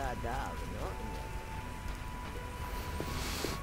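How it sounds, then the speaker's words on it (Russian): Soft rain patters steadily in the video game The Witcher, a quiet background hiss under a voice early on. "Сильный дождь."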